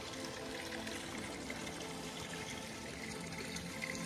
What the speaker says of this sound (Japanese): スポットに到着しました。 荒沢滝でございます。